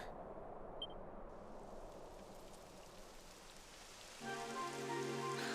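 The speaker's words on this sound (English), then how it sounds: "It would have to go and start raining, wouldn't it?" Steady rainfall in the video game Dragon Quest 11 patters softly throughout, with a brighter, denser layer of rain noise joining near the end.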